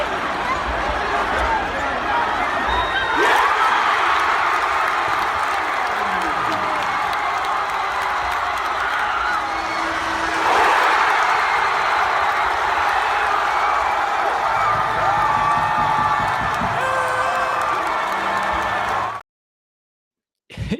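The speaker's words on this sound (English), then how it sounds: "the roar of the crowd is just unbelievable at the end there" A basketball arena crowd roars and cheers as a Virginia Tech–UVA double-overtime game ends, a dense, sustained wall of cheering with a surge around the middle before it cuts off abruptly near the end.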